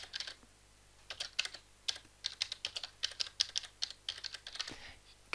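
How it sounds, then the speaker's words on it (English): A brisk, uneven run of computer keyboard keystrokes is heard up close at moderate volume over a faint steady hum, with no speech. "So if we type in"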